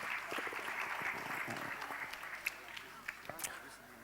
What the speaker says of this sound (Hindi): तालियों के साथ अभिनंदन अभिवादन।